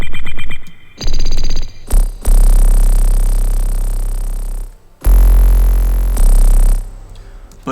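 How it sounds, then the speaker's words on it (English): A deep, booming 808 bass in a jerk drill remix beat hits in long sustained notes that slide and decay, loud and heavy, with lighter plucky synth and percussion elements between the bass hits. "Normally this is an 808, so it should sound like this."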